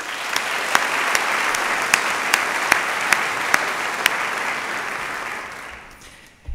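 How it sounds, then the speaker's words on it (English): Audience of faculty and staff at an opening meeting applauding for departmental senators; steady, moderately loud clapping with a few sharp individual claps standing out, fading toward the end. "Round of applause, please."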